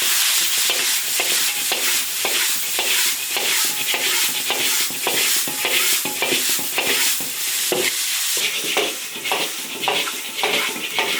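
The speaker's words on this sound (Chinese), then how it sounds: "爆炒猪肚要炒辣点。" Loud, continuous sizzling in a hot iron wok with rapid, repeated scraping and clanking as pork tripe is tossed and stirred; no voices.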